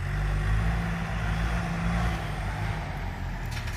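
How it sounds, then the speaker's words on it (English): A truck loading out ash timber at a logging site makes a steady, fairly loud diesel rumble that holds evenly throughout, with no voices. "You can see the truck up there loading that stuff out."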